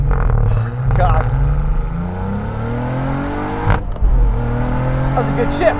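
A 2024 Cadillac CT4-V Blackwing accelerates hard on a wet road, engine note rising steadily, dipping at a quick upshift, then climbing again, loud and close from inside the cabin.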